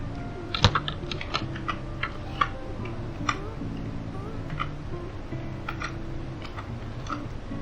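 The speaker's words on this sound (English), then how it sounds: "I can now type my message right here." Brisk, fairly quiet typing on a computer keyboard as a message is entered in Slack on Windows 10, with irregular clicking keystrokes close up and no talk.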